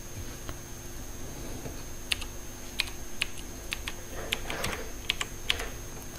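A password goes in on a computer keyboard as scattered, faint key clicks, some single and some in quick bursts, over a quiet room hum.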